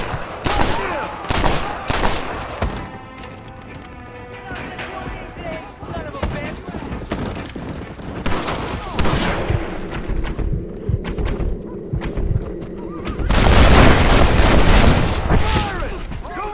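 Gunfire in Red Dead Redemption on Xbox Series S: bursts of loud, close shots crack out in rapid clusters, then pause and return in a heavier volley near the end, with game voices calling out over the fight.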